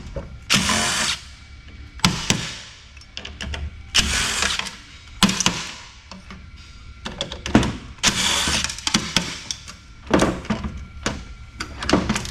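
A socket ratchet fitted with a 12-inch extension works fasteners loose on high-end lab equipment, making loud, close, rapid clicking bursts in repeated short runs with brief pauses between strokes and no speech.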